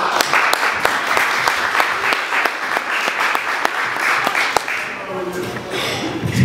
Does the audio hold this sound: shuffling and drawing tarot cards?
no